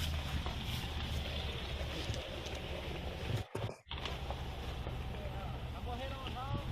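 Non-diesel boat engine hums steadily at moderate level with wind noise on the microphone, briefly cutting out near the middle before resuming; people talk over it.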